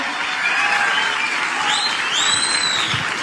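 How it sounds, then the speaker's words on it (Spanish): Festival crowd applause at the Olmué festival in Chile, a steady broad roar of clapping with faint whistling tones riding over it. "Un gran aplauso."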